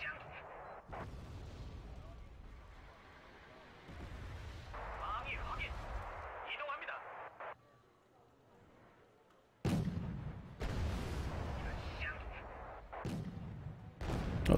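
K1 tanks firing in the strategy game Wargame Red Dragon, heavy booming cannon shots and explosions in several bursts, some distant, separated by quieter stretches, with a voice talking over parts of it.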